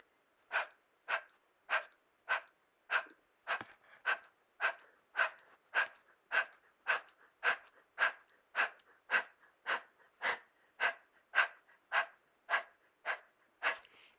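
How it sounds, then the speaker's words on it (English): Rapid panting breaths during a kundalini yoga exercise, about two dozen sharp, evenly spaced exhales in a steady rhythm, close and alone with no talking. "you can even make some noises on the exhales instead of the panting"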